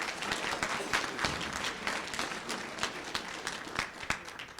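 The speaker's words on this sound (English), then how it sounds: "Miriam Jorgensen a round of applause?" Audience applause at a tribal leaders' economic summit rises for a speaker, a moderate, steady crowd of claps with distinct individual hand strikes standing out.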